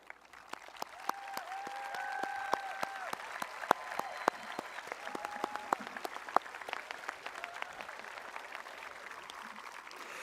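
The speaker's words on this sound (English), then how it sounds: "let's give you a round of applause" A graduation audience at Eastview High School's 2021 ceremony applauds its teachers, with scattered, sharp claps sounding faint and distant over a low hum and some thin tonal tones.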